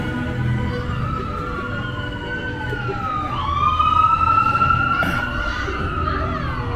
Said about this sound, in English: That was a real ambulance.